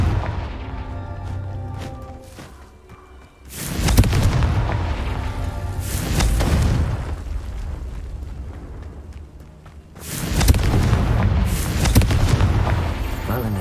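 Two heavy booming blasts from the Confringo explosion spell in the game Hogwarts Legacy, each with a long rumbling tail, loud and near, with game effects and sound in between.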